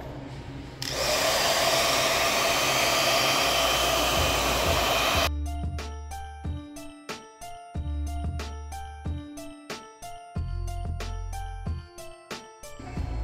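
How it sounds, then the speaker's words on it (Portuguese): A hair dryer blows steadily and loudly to dry glue on a table tennis racket rubber, then shuts off, leaving a series of sharp clicks and taps nearby. "você pode ficar soprando ou usa o secador de cabelo que seca mais rápido"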